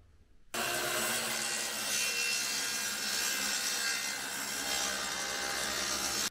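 A hand saw cross-cuts through light quarter-inch plywood, giving a close, steady rasping stroke sound that runs continuously for about six seconds after a silent start.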